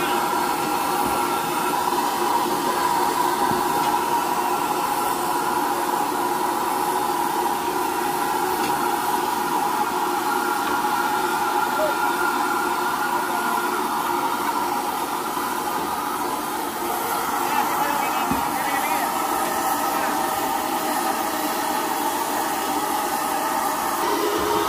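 Steam locomotive hauling sugarcane trains at the Rejosari sugar mill in Magetan, heard from the cab as a steady, loud broadband roar and hiss of steam and firebox running throughout, with faint voices under it.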